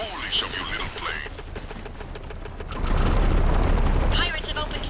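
Pirate gunfire in the flight sim game The Brew Barons, rapid mechanical bursts and rattling shots over a droning engine roar that swells midway, with talk in the background.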